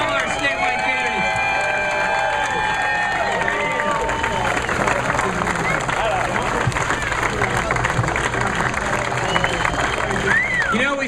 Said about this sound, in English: Let's have one big round of applause for all our statewide candidates.